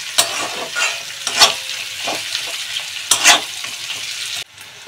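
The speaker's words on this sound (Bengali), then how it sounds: "এখন এই পেঁয়াজ আর রসুনটাকে ভালো করে ভেজে নেব" Onion and garlic frying in a pan for a prawn and garlic water-spinach dish cooked without water: a loud, steady sizzle broken by several sharp scraping stirs, with no talking.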